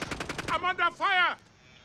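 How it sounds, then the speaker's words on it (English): Rapid automatic gunfire in the video game Call of Duty: Modern Warfare (2019), a quick burst of close shots followed by a brief mechanical clatter, with a player voice over it. "I'm under fire!"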